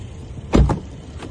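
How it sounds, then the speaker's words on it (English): The power boot of a 2015 car operates with a brief, close electric motor whir lasting under a second, then the surroundings fall quiet again. "Power boot is working, as you can see."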